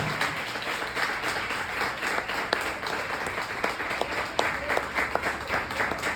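A church congregation applauds for Jesus during an anniversary celebration service, a steady, dense wash of many hands clapping with scattered sharper claps standing out, sustained and fairly loud throughout.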